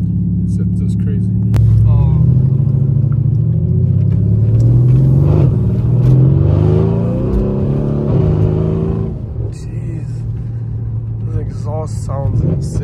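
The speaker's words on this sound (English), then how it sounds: "Sounds insane. Look at those downshifts." A tuned 1000-horsepower Mercedes C63s roars loudly as it revs hard and then downshifts with rising and falling engine pitch, close up, with people talking over it.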